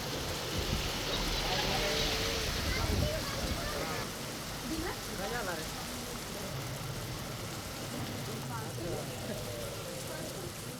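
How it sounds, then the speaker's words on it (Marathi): Heavy monsoon downpour in the Satpuda hills of Nandurbar district, a steady dense hiss of rain with wind noise throughout, some voices faintly audible beneath it. "नंदुरबार जिल्ह्यातील सातपुडा परिसरामध्ये तुफान पाऊस झालाय"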